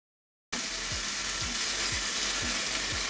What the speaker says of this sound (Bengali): ভালো করে মরিচ মশলাটুকু কষিয়ে নেব।